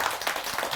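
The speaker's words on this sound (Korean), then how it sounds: "박수 한번 쳐드립시다." Audience applause at a Buddhist temple dharma talk, a short burst of dense clapping filling the moment with steady, fairly loud texture and no voice on top.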